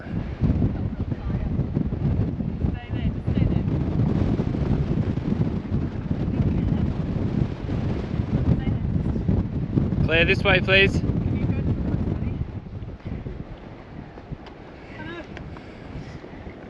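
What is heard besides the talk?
strong wind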